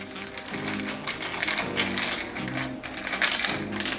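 A cocktail shaker is shaken hard and continuously for a holiday drink, giving a steady rapid rattling of ice that carries through the whole stretch at close range.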